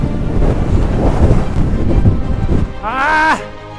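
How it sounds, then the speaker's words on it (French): Strong storm wind roars and buffets the microphone on a ski slope during a ski touring outing, a loud steady rush that ends with a brief voiced exclamation. "Tempête de vent."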